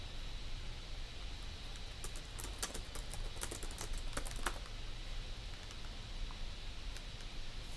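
Typing on a computer keyboard: a short run of quick, crisp key clicks in the middle, quiet and close over a steady background hiss, with no talking.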